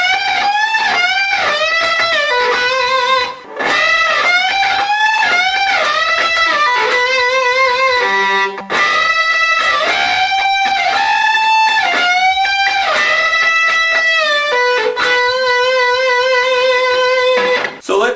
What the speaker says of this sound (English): once again you're bending the note up to the pitch which you know sounds good